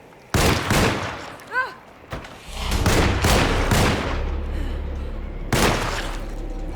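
Gunfire in the video game Alone in the Dark: a burst of loud, close shots followed by more spaced blasts and a final report, with a player's voice talking over the action.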